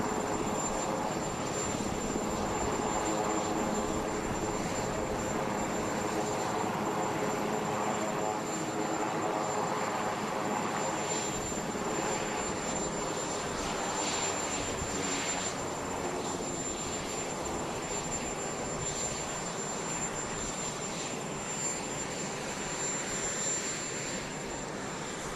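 An airplane engine whines and roars steadily at a distance for the whole stretch, a constant loud drone with faint voices talking beneath it.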